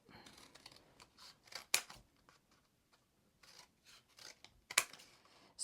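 Scissors snipping pieces of material for gel printing, a series of quiet crisp cuts and rustles at close range, with a few sharper snips standing out.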